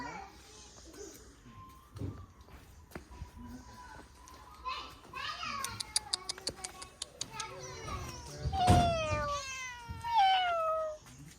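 A cat meows several times in rising and falling cries amid children's chatter and adult voices at a hillside stay in Kumily, with the meows loudest toward the end.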